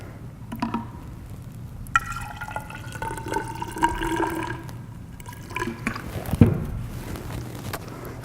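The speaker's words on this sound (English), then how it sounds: "we're going to add our hydrogen peroxide into our bottle" Hydrogen peroxide at 30% strength, 60 milliliters, trickles into a bottle for an elephant toothpaste demonstration, a soft, close liquid pour with gurgles and a few sharper splashes.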